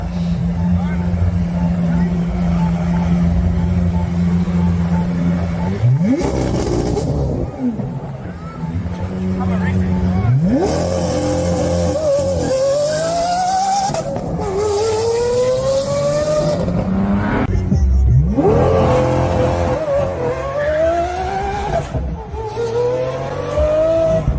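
A Tesla Cybertruck and a Lamborghini race, with repeated loud accelerating runs. Rising engine and motor whines sweep upward several times, broken by bursts of broadband roar and tire noise, with a constant low hum beneath.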